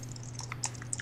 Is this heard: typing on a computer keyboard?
yes